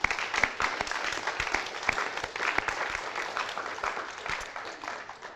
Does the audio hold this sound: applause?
yes